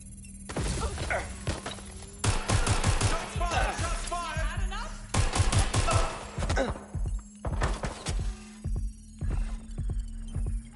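Bursts of gunfire in the Watch Dogs: Legion video game, loud sharp shots in rapid clusters separated by short pauses, repeating across the clip.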